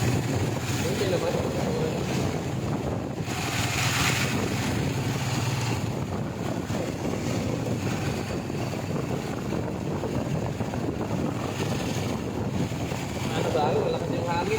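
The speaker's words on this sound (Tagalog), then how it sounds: "Malakas yung hangin." Strong wind roars steadily throughout, a broad continuous rush buffeting the microphone during heavy rain on a trip, with no clear gaps.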